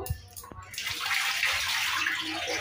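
Green beans are rinsed under a running kitchen tap, a steady close rush of splashing water that starts after a few soft knocks and carries on without a break.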